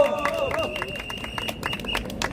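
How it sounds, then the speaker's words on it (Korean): A crowd at an outdoor press conference outside the Supreme Court claps steadily, scattered hand slaps in a loose rhythm over a noisy background, with voices and a tonal hum mixed in. "박수 부탁드립니다."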